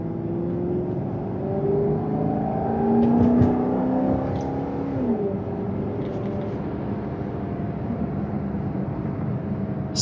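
A 2012 Maserati GranTurismo MC with 35,396 miles and carbon wheels hums steadily while driving, a constant engine drone with gear-shift changes in pitch, heard alone from inside the car.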